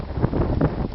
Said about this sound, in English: The wind has really picked up